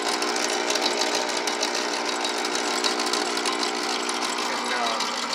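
Motor of a Bing Crosby Junior Juke jukebox running with a steady, dense mechanical whir and buzz, constant and fairly loud throughout, no talking.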